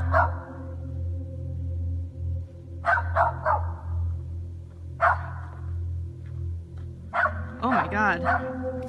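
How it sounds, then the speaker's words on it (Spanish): A family dog barks in scattered bursts, two or three yips at a time, at a creature in an outdoor clearing, while people talk and exclaim nearby over a low background hum. "el perro de la familia quiere ir a atacarlo, pero se detiene antes de llegar"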